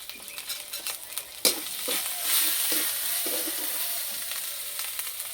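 Chili, cumin and turmeric powder fry in a pan with ginger-garlic paste for an egg and spinach dish, a loud steady sizzle broken by repeated scraping strokes of a spoon stirring the spices.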